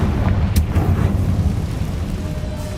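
Confringo blasting curse going off in the game Hogwarts Legacy: a loud, deep rumbling blast with a sharp crack near the start, rolling on as a heavy sustained roar.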